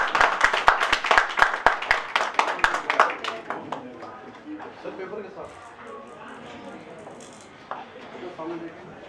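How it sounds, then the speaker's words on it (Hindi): Applause from an audience at a junior-category speech competition grand finale, opening with loud, close, rhythmic clapping for about three seconds, then thinning into scattered claps under murmuring crowd voices. "बहुत सी तालियां होनी चाहिए सुनैना के लिए"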